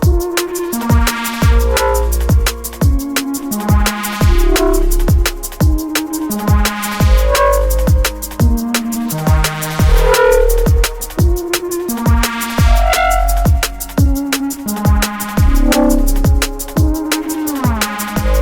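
FM bass chords from a Serum synth with reverb, stereo widening and subtle distortion, playing a steady rhythmic progression of punchy notes with rich harmonics, loud and continuous with no talk.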